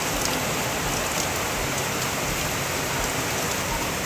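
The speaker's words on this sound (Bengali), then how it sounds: "এই যে এইদিকে দেখো কেমন বৃষ্টি হচ্ছে" Heavy rain pours down in a steady, dense hiss that stays loud and unbroken throughout, with no voices over it.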